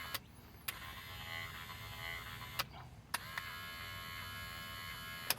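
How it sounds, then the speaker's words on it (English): A replacement power window motor on a truck runs with a steady electric whir and hum, broken by a few sharp clicks and short bursts. It is close up, with no talk. "we have our replacement motor hooked up and it works now"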